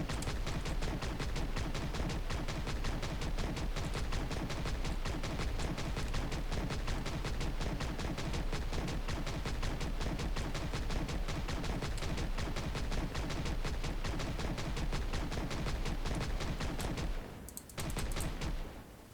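Continuous dense gunfire in the video game Project Zomboid roars nonstop, rapid overlapping shots forming a loud, unbroken barrage that briefly drops out near the end before resuming.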